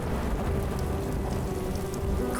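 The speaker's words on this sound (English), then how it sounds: "Now it's raining on just us." Steady rain falls in a dense, even hiss of drops on surfaces, loud and continuous with no pauses and a low rumble beneath.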